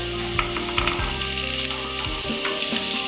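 Carrot, beetroot and peas go into shallow-fried onion in a hot pan, giving a steady close sizzle with intermittent stirring scrapes and clatter, no voices.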